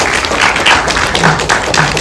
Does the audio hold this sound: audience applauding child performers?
yes